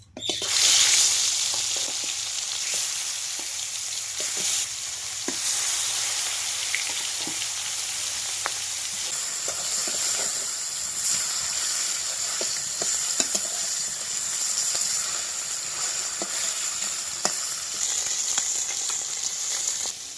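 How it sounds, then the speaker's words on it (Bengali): Fish sizzle steadily in hot oil in a home kitchen, a dense continuous crackle with scattered sharp pops and occasional stirring scrapes, close and fairly loud, no voices. "তেল গরম হয়ে গেছে, মাছগুলো দিয়ে দিচ্ছি।"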